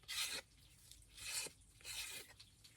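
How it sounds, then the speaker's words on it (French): A file rasps across the edge of a paper scrapbooking card in three short, close strokes with brief pauses between them, quiet and alone. "je vais venir donner un petit coup de lime"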